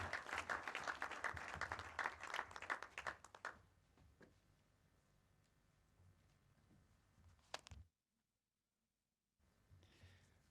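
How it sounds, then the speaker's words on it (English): A graduation audience at a sports club breaks into a burst of many hands clapping for about three seconds, then it thins to scattered claps and quiet room noise with a short silent gap. "Let's give him a big round of applause, Mr. Peter Wairagu."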